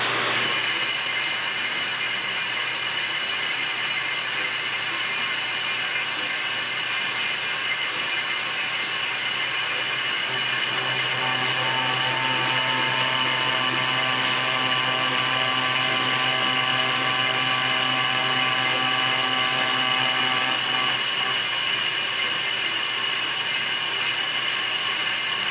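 A Toyota Tundra disc brake rotor is turned on a lathe to reduce its diameter, giving a loud, continuous metallic ringing whine with sustained squealing tones and no talk.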